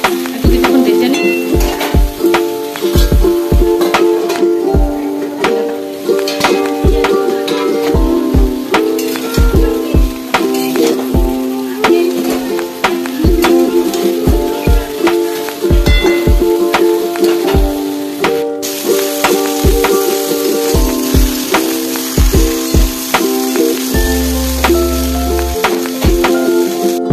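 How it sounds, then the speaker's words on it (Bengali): Food frying in a pan with oil, a steady sizzle running throughout, broken by frequent sharp clinks and scrapes of stirring; no talking. "একটু কিছুক্ষণ ভেজে নিই।"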